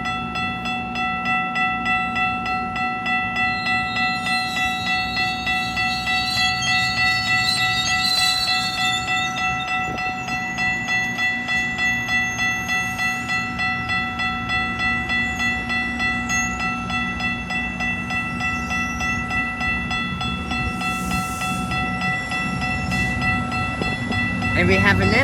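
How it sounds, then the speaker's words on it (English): A GO Transit MP40 locomotive, engine 618, pulls out of Bradford GO station with a steady diesel drone and sustained tonal hum, while faint higher squeals and brief clatters come and go and a voice talks intermittently. "now for train leaving for station."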